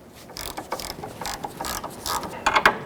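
Ratchet with a 14mm socket tightening a sway bar link on a 1998-2002 Honda Accord, giving quick, light clicking pawl bursts at close range in several short runs.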